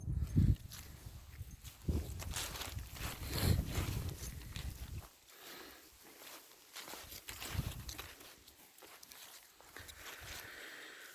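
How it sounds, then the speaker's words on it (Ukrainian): Slow hoof steps of horses walking on hard ground, irregular clip-clop thuds at close range with some outdoor rustling. "Отакі є коні у Нижньому Березові, у Андрія."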